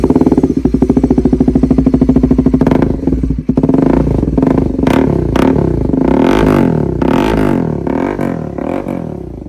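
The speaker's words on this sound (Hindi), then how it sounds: "इसमें हमने एग्जॉस्ट लगाया, वो लगाया मी वाला, और इसमें जो साउंड है वो मैं आपको पहले सुना चुका हूँ" A Bajaj Pulsar NS400 motorcycle fitted with an Arrow aftermarket exhaust, loud and close, with a rapid throbbing idle that breaks into repeated rising and falling revs and crackling exhaust pops.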